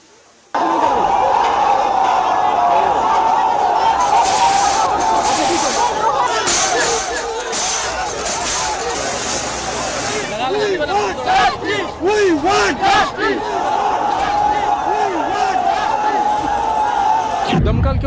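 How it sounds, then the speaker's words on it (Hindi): A large crowd being pushed back by police at an election-time gathering in Jammu and Kashmir, heard from up close as loud, continuous shouting and babble with sharp bursts and clatter, persisting throughout with no clear words. "आगे देखिए भीड़ जो है उसको धकेल के आगे ले गया है पुलिस"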